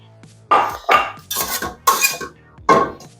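Beets dropped into a cast iron pot land with loud clanks and clatters, several distinct metallic knocks spaced about half a second apart with no voices.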